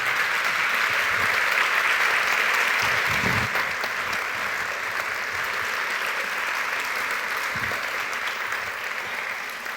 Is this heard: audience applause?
yes